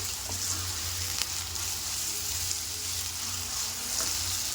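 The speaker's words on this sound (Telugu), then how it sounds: "ఆలుని, తురిమిన ఆలుని ఫ్రై చేసుకోవాలి." Grated potato fries in a pan with a steady, moderately quiet sizzle and crackle that runs throughout, with no voices.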